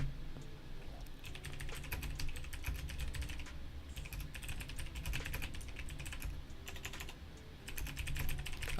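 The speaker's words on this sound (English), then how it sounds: "Right now I'm typing" Continuous typing on a computer keyboard, quick irregular bursts of close key clicks with short pauses between runs, steady and fairly quiet over a faint low hum.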